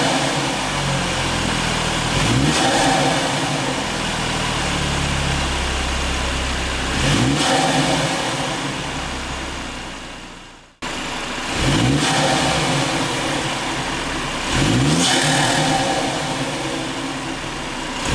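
A 2017 BMW F30 330i with a B46 turbo four-cylinder and an FTP chargepipe revs repeatedly from idle, each sharp blip rising and falling, with a brief cut midway; loud, close and alone, no talk.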